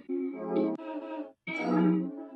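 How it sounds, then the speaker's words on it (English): A vocal texture built from recorded samples plays as two sustained, layered voice-like tones with a harmonically rich, pad-like quality, separated by a short gap of silence. "And the last one, which is a vocal texture,"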